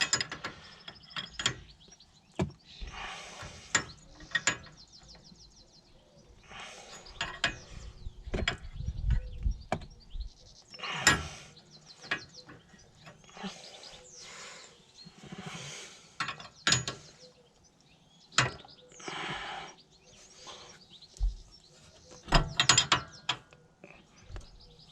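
Ratcheting clicks and metallic mechanical rattles from a 22mm spanner tightening the inner track rod end on a 2000–2007 Volvo V70, coming in irregular close bursts with brief pauses and no talking.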